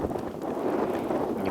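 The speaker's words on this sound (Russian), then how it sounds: "О, ветер дует до сих пор." Steady wind buffets the microphone at a snowy ice-fishing camp beside a tent, a continuous low rumbling roar with no other distinct sounds.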